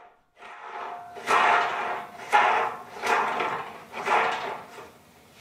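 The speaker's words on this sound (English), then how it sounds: "Just unscrew the old feet and install the new wheels" Old feet are unscrewed and new wheels fitted on a Seville Classics UltraHD steel workbench, heard as four or five evenly spaced rasping, grinding turns with short pauses between them, close and fairly loud.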